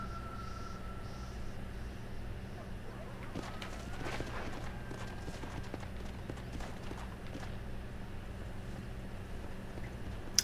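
Horse hooves clip-clopping in the Red Dead Redemption Undead Nightmare video game, a soft irregular clatter of steps at a moderate distance, fairly quiet under a low ambient game hum.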